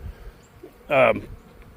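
A brief buzzing burst of honey bees, close and fairly loud for about a quarter second, standing out over a quiet background, during winter feeding.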